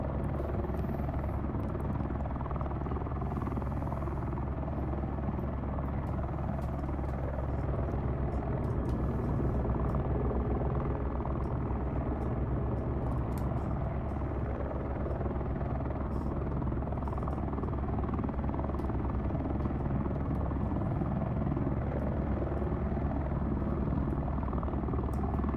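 A helicopter in a flight simulator game drones steadily throughout, a continuous dense rotor and engine rumble with a constant low thrum and no breaks, moderately loud.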